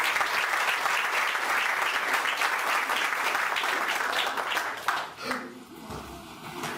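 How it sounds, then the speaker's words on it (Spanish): A church congregation applauding the Lord while standing: dense, loud, continuous clapping from many hands that fades out near the end, followed by a voice. "Aplaude al Señor y ponte de pie"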